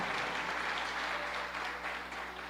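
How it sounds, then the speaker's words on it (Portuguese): Steady, dense clapping from a church congregation, loud and continuous throughout without pause. "Pode aplaudir bem forte."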